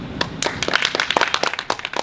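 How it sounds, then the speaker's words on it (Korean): A small audience at a gallery opening ceremony gives sparse, scattered applause to welcome a violinist and fellow performers, the claps fairly faint and irregular. "네, 여러분 그러면 준비하신 곡을 박수로 청해 듣겠습니다."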